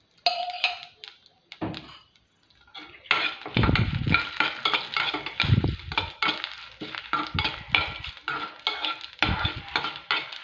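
Dried red chillies and curry leaves frying in oil in a pan for a radish palya, a busy sizzle broken by repeated scrapes and clinks of a ladle stirring against the pot.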